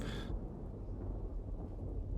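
Thunder from a storm in the video game Empyrion rumbles low and continuous at a faint distance, a deep steady roll with a brief brighter burst at the start and no voices.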